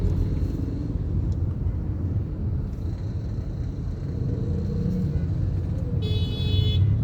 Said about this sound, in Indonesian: ini mobil